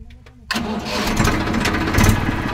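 An R15 tractor engine on a sugarcane farm cranks and fires into a loud, close rumbling run that settles into a steady idle.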